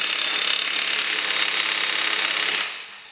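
An old Ryobi cordless power tool runs at full speed against a 1988 Jeep Cherokee frame with a harsh, steady buzzing chatter, loud and close, then winds down near the end.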